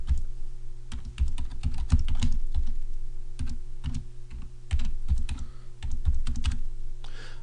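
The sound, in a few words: typing on computer keyboard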